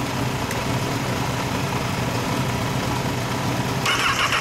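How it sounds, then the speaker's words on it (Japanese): A 2010 Honda CBR1000RR SC59 sport motorcycle engine runs steadily and loudly up close, a continuous rough idle throughout with a slight rise near the end. "エンジンを聞かせて。"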